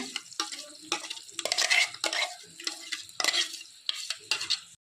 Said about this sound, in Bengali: এখন এই যে পেস্টটা দিয়ে দিচ্ছি, গ্যাসটা কমিয়ে রেখেছি